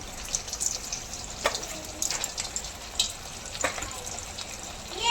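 Semolina gulab jamun balls frying in hot oil in a kadhai, a faint steady crackle and hiss with soft scattered pops and a light clink near the end.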